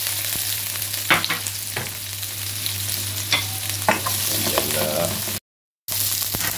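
Garlic and onion sizzling in an oiled pan, a steady frying hiss broken by occasional spatula scrapes and stirring knocks, close and continuous, with a brief dropout near the end.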